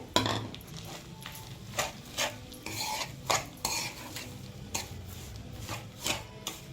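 Rice being stirred and fried with ghee and sugar for sweet kesari bath, a utensil scraping the pan in irregular strokes over a soft background sizzle, close and moderately quiet, with no talking.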